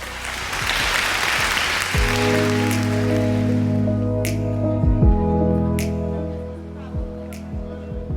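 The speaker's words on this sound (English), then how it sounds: "I think we should just give them a round of applause" At a Lagos SME funding event, an audience applauds loudly for about two seconds before the clapping fades beneath sustained tonal music and a few sharp clicks and taps.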